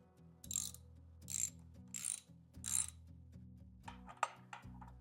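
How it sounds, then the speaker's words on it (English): Bar riser bolts being hand-tightened on a Royal Enfield Himalayan motorcycle, giving a series of quiet metallic clicks and ratcheting taps in short bursts over a low steady hum, with no talking. "I'm just going to tighten these by hand at first to see if I can make sure I find those threads."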